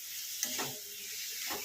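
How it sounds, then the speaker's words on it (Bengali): Hilsa fish heads sauté in a pan with a soft, continuous sizzle and light crackle, faint and close, with a couple of brief stirring scrapes. "এটাকে একটু ভালো করে কষিয়ে নেবো আগে, ইলিশ মাছটাকে, ইলিশ মাছের মাথাটাকে"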